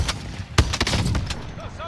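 A single heavy sniper shot booms in a shooter video game, surrounded by scattered smaller game sounds, with a voice briefly heard near the end.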